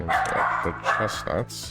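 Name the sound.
pet dog barking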